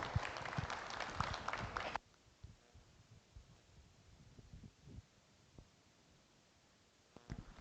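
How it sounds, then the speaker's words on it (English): Crowd applause at an Angus bull show at a state fair, a loud burst of clapping for about two seconds that cuts off abruptly, followed by quiet arena noise and a brief final clap or two. "let's give him a big round of applause"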